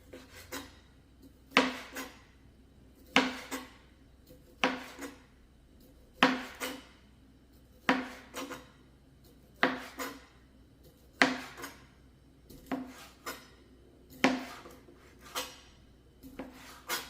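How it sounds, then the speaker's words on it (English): A knife chops sausage on a cutting board in a slow, regular rhythm, about ten distinct woody thuds spaced a couple of seconds apart, close and fairly soft, with faint rubbing between strokes. "I almost got my sausage cut up."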